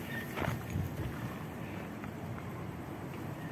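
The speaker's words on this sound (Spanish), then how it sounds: "Una disculpa por el viento" Wind buffeting a microphone outdoors at an abandoned building site, a steady low rumbling roar with gusty bumps, fairly faint overall and with no talking.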